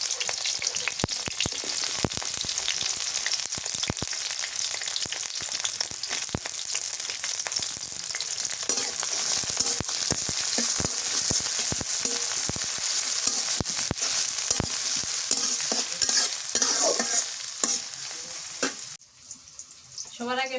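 Chopped onion and sliced green chili sizzle and crackle steadily in hot oil in a pan, a dense, loud frying hiss with scattered pops and stirring clatter, briefly dropping near the end.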